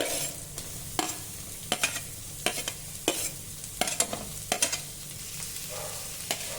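Chopped large onions sautéing in oil with cumin seeds, a steady close sizzle broken by repeated sharp clacks and scrapes of a spoon stirring the pan.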